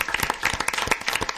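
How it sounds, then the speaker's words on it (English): An audience at a city council meeting applauds in a brief burst of dense, steady clapping, heard close. "So one more round of applause for this group."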